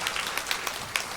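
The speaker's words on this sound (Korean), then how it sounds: "큰 박수로 환영합니다" Brief patter of clapping hands from a church congregation welcoming guests at a Sunday service, steady and moderately loud, with no voices over it.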